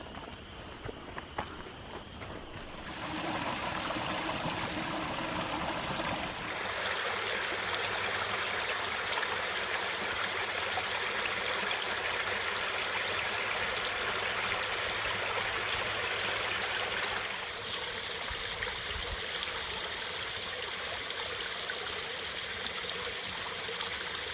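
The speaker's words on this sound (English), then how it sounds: "taking a drink here by stream" A small stream flows steadily beside a hiking trail, a continuous close rushing and babbling of water that holds level for the whole stretch, with faint rustling early on.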